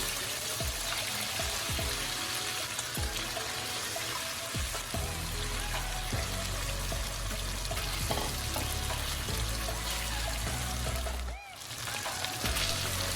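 Chicken breast searing in a pan sizzles steadily and loudly throughout, with occasional stirring clatter and faint talk underneath.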